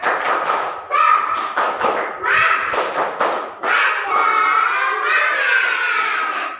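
A school class does a rhythmic spirit clap together in a classroom: loud, close bursts of patterned clapping in short groups, with children's voices chanting along throughout.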